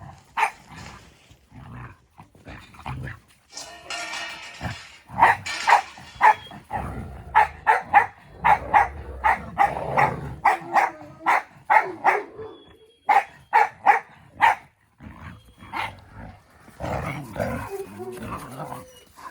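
A dog that loves snow barks in a snow-covered garden, with repeated loud bow-wow barks in uneven bursts, some rapid runs and a little growling, no talk.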